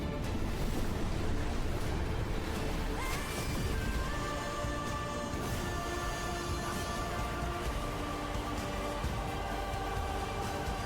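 Ocean waves surge and crash in a show being watched, a dense continuous roar of surf and rushing water, steady and fairly loud throughout, with a faint tonal music bed rising beneath it.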